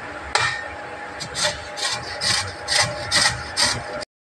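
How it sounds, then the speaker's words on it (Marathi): Raw mango being grated on a small hand grater, about eight rhythmic rasping strokes, close and clear, each stroke a short scraping burst before stopping abruptly. "आता आपण आंबा किसून घेऊया"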